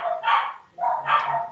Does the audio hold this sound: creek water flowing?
no